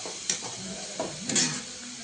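Grated carrots are stirred and sautéed in ghee in a pan for gajar halwa, with a soft steady sizzle and a few scraping spoon strokes, close by, without talk.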